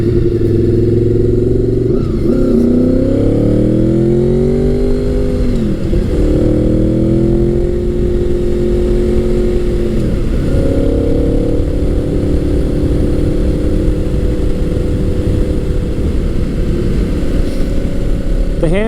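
A 1998–2001 Gen 5 Honda VFR800 motorcycle engine revs on the road, loud and close. The drone climbs in pitch, drops sharply at gear changes, then climbs again, over constant wind roar, with no talk.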